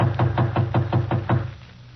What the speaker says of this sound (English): I'll knock again.